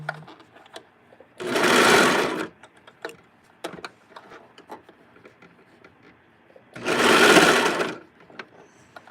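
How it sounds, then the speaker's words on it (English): A sewing machine stitches a knit shirt in two loud, close bursts of about a second each, separated by quiet handling clicks and small taps. "Okay, now it's time to sew."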